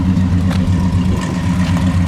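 A supercharged 1964 Studebaker Hawk Gran Turismo R2 with a four-speed idles close by, a loud, even, low burble with a steady rumbling pulse and a few light clattery ticks.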